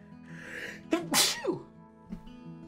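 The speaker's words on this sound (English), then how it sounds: "The sneeze. It sneaks up on you." A single close, sharp human sneeze with a short breathy lead-in, heard clearly on its own in a quiet room.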